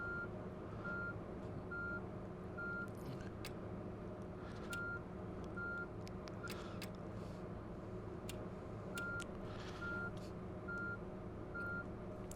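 Evenly spaced reversing beeps from a coach in Fernbus Coach Simulator repeat steadily over a constant idling engine hum, moderately loud and continuing throughout with no talk.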